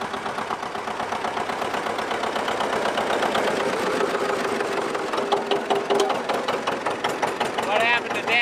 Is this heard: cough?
no